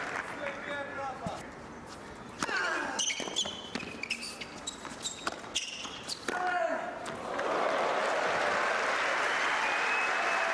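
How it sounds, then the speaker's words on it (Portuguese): Spectators in the stands applaud a point at a tennis match in Abu Dhabi, a steady wash of clapping that swells toward the end, with ball bounces and a commentator speaking over it. "E é David Ferrer quem arranca novamente aplausos das bancadas"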